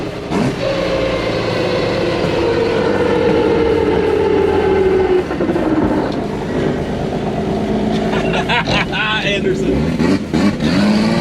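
A turbo Opala SS race car engine revving and popping while blowing flames, a loud rising drone with sharp crackles near the end, with voices talking over it.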